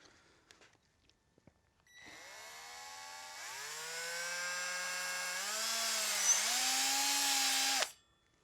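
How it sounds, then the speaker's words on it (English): A power-driven hone spins inside the valve bore of a Porsche 912 cylinder head, a high whining drill tone that starts abruptly, climbs in pitch in steps over about six seconds, then cuts off, close and loud. "I'm going to run the hone through just really quickly and try to, create the crosshatch in there"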